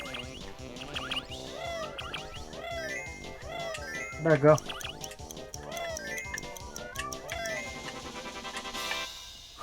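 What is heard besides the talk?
cat meowing at the door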